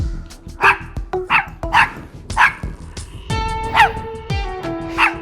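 A dog barks repeatedly at a steady rhythm, loud and close, its yaps sometimes rising into higher whining yips.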